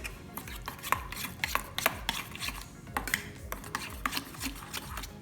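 Mayonnaise is stirred with about two tablespoons of onion powder and a little mustard in a bowl, giving close, steady scraping and tapping of a utensil against the bowl in an irregular rhythm.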